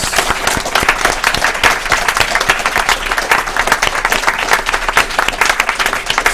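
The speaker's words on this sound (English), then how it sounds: "Give yourselves a big round of applause" Studio audience applauding at a live podcast recording in a hotel venue, a dense, steady wash of many hands clapping that stays loud and even throughout with no voices over it.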